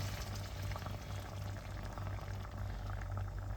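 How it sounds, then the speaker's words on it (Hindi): Light cream poured into simmering white chicken karahi, a steady low bubbling and gentle liquid pour running continuously and fairly quietly throughout, with no talk. "अब जनाब हम इसके अंदर डालेंगे क्रीम।"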